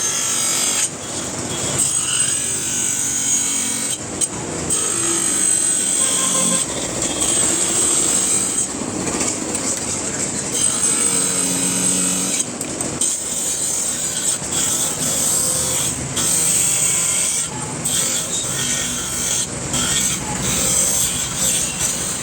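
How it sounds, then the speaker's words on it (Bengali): An eyeglass lens cutting machine runs at a glasses workshop, a continuous close whirring with a high-pitched whine and occasional brief dips as it cuts. "চশমা বানানোর মেশিনটা আমি কোনোদিনই দেখিনি, এই প্রথম দেখলাম, তাই সবাইকে দেখাচ্ছি।"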